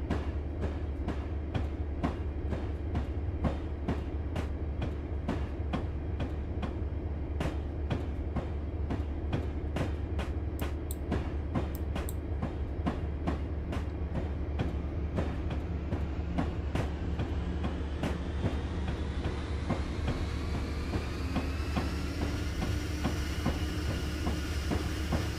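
A freight train of empty boxcars rolls along the track in Train Simulator 2020, a steady heavy rumble with rhythmic clicking wheel beats, later joined by a rising mechanical whine, no voices.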